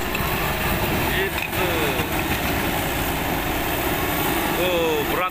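A bulldozer engine rumbles and revs while pushing rubbish at a landfill, a loud steady mechanical drone with grinding and squealing, someone talking over it.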